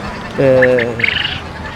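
A domestic duck at a livestock market quacks once loudly and close by, followed by a short burst of rapid honking calls, with crowd talk faintly underneath.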